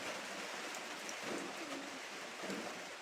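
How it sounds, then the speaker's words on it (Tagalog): Steady rain falls in a dense, even hiss with no letup, and a faint bird cooing drifts in the background. "Yung lakas pang ulan"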